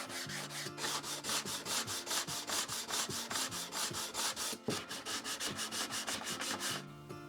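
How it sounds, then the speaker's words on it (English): An orbital sander works over wooden tray tops with 120-grit paper, a loud, continuous abrasive rasp pulsing in quick, even strokes nearly throughout. "Then I just sanded the tops down to 120 grit, which I'd used on the frames previously with the orbital sander."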